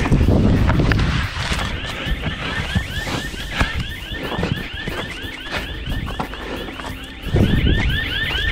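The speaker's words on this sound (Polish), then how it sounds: "O kurwa, alarm." Alarm going off inside an abandoned motel building, a loud, rapid, repeating electronic warble that runs continuously, with some rustling and footsteps mixed underneath.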